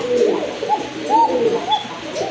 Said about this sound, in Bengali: খুবই সুন্দর ডাকে কবুতরগুলো